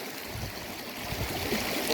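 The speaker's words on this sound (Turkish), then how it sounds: "Bu su dere e, Melen'e gidiyor." A village creek flows toward the Melen river in rural Sakarya, making a steady rushing, gurgling water sound that stays constant and fairly close.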